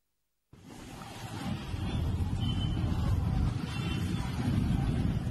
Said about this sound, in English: it's a very busy stretch. Traffic is moving.